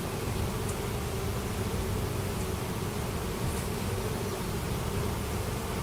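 Honeybees swarm around an opened hive during an inspection, a dense, steady buzz of many wings that holds at an even loudness throughout, with no voices.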